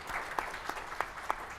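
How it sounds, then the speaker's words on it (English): Scattered, thin applause from a small audience at a summit panel luncheon, a handful of separate claps over a soft background. "I want to give you guys a round of applause."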